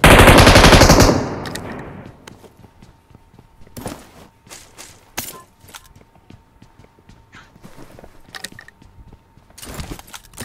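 Automatic gunfire in an online multiplayer shooting game: a loud sustained burst opens, then scattered sharp shots and rapid bursts crackle over a quieter stretch of footsteps and small game noises.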